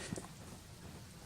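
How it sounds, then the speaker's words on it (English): Steady rain falls outdoors in the hills near Wellington as weather moves in, a faint, even hiss of drops with no other sounds standing out. "The rain's come in now"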